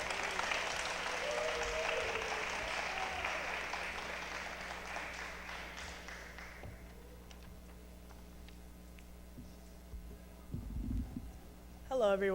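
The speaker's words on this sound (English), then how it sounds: "So a round of applause for Kenu." An audience applauds at a college Women's History Month celebration, clapping fairly loudly for about six seconds before fading out, followed by low room noise and a few brief sounds near the end.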